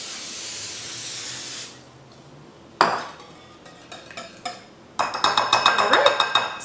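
A steady spray of cooking spray onto a pan hisses for about two seconds, then stops; metal clanks and rattles follow, ending in a quick run of sharp pan knocks.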